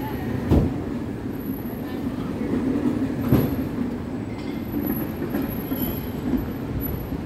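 An elevated train rumbles past overhead on Sukhumvit 13, Bangkok, with a steady roar, faint wheel clatter and a few sharp squeals, moderately distant.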